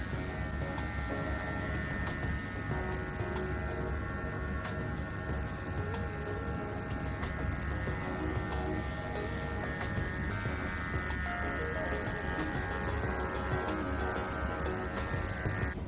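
An electric hair clipper buzzes steadily and close for the whole stretch while cutting hair at home, a constant droning hum with small shifts in tone as it moves.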